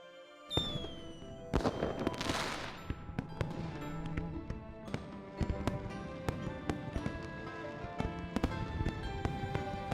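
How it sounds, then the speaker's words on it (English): Fireworks crackle and pop at a video game's Chinese New Year event, starting with a whistle and then a burst, followed by a steady run of sharp bangs and crackles. "Fireworks are beautiful."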